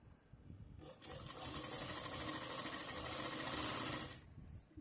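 A sewing machine stitches a zipper pocket onto trousers, running in one continuous, fast whirring burst of about three seconds, close but soft, with small clicks before and after.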